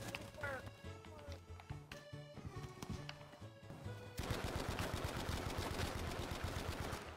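Enemy gunfire in Battlefield 5 Firestorm rattles in bursts, first scattered amid game noise and a brief voice, then a dense, sustained rapid automatic fire stream fills the rest.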